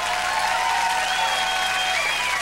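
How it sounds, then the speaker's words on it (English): A concert audience applauds steadily throughout, a dense, even wash of clapping with faint cheering tones rising over it, close and full. "Don't be clapping and stuff."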